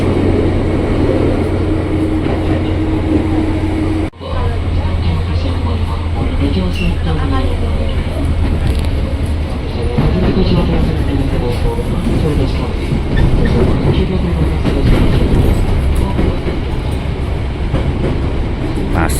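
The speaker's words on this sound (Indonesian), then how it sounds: "Kita masuk di stasiun Bogor." A KRL commuter train pulls into Bogor station with a loud, continuous rumble of wheels and carriages on rail, marked by a rhythmic clatter and a brief dip partway through, while a voice talks over it.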